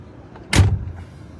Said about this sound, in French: Si j'ouvre ma porte, voilà, on voit ici.